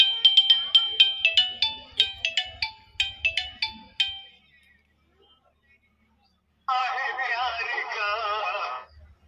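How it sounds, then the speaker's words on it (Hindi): A Jio F320 feature phone rings with an incoming call, a melodic electronic ringtone of rapid repeated notes for about four seconds. A short silence follows, then a buzzy, garbled voice starts up through the handset. "देखिए दोस्तों, फोन आ गया।"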